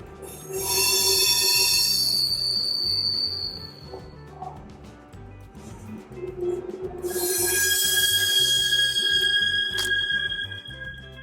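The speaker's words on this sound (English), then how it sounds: "you see that? It's a train." A passing train with a loud, rhythmic wheel clatter and long high-pitched metallic squeals that swell, fade, then return, close by.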